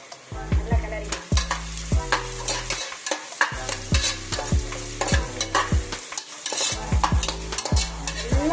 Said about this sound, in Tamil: நல்லா கிளறிடலாம்.